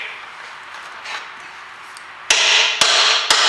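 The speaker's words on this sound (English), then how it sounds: "I'm going to hit it with the hammer here" Hammer blows ring out on a Ford Fiesta wishbone joint while someone pulls down on the suspension: three sharp, loud metallic strikes spaced about half a second apart, following a quieter stretch of background noise.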